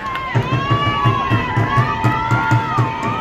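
Easts supporters at a Sydney rugby league grand final make noise from a distant stand, a crowd roar with shouting and a steady rhythmic pounding beat, some whistles riding over it.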